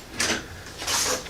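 A drawer in a garage workshop is opened, giving two quick sliding scrapes that sound close and fairly loud, with nobody talking.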